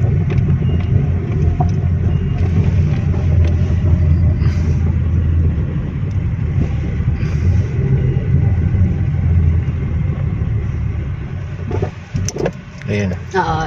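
A Hyundai Accent under way in drive, its muffler vibrating with a steady low rumble and drone of engine and road noise throughout, while people talk over it.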